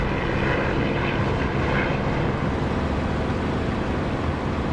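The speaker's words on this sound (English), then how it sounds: "there's a very solid sort of sound of the Spitfire engine" Steady, loud Spitfire piston engine drone heard from inside the cockpit with the canopy closed in the DCS flight simulator, a dense continuous roar with no talk over it.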